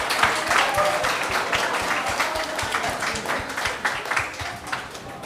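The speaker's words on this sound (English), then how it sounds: "Give her another round of applause." An audience at a debate event gives a brisk round of applause for a speaker, dense and close clapping that continues throughout with slight swells.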